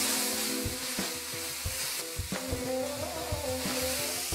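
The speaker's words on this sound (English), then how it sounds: "Saute this till the raw smell goes off." Onion and masala paste sautéing in a pan for chicken biryani, a steady sizzle and frying hiss with occasional stirring knocks against the pan, close and continuous, no talking.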